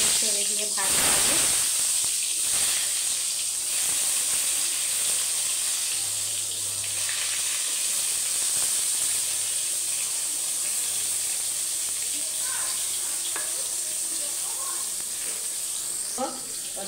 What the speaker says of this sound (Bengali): আমি বেগুনটা একটা একটা করে ছেড়ে দিয়ে ভাজবো